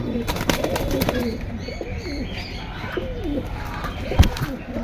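Domestic pigeons kept in a breeder's collection coo in repeated soft, low rolling calls close by, with a few faint chirps and a brief thump near the end.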